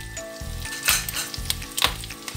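Shrimp paste sizzling in a hot pan for Bicol Express, a close, bright crackling hiss with spattering bursts and rhythmic low bumps as the pan moves, no voices.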